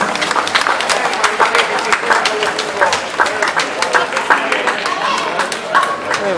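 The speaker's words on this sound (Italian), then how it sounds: "Un applauso alle ragazze e ragazze," A crowd claps continuously at a synchronized dance championship, dense and lively applause, while voices call out and talk over it.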